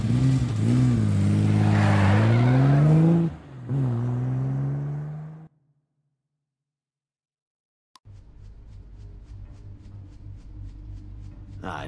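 A car driving in the video game Devil's Hunt: a loud engine note that rises and shifts pitch for a few seconds, then drops and fades into silence, followed by a quieter low hum with faint clicks.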